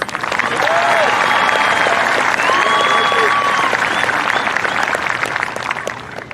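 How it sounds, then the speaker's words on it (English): A high school graduation audience breaks into sustained, loud applause, swelling after a moment and holding steady with scattered cheers and voices mixed in. "Let us give these young men and women a round of applause and appreciation for their service and commitment."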